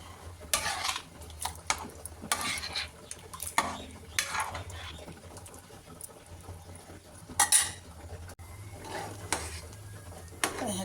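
A spoon stirring sambar in a metal pot, with repeated scraping and clinking strokes against the pot's sides and a soft simmering background, close and fairly loud.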